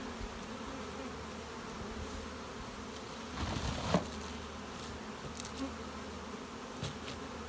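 A honeybee colony drones steadily inside an open hive with frames of drawn comb and a super, the dense buzzing holding even throughout with a brief knock near the middle.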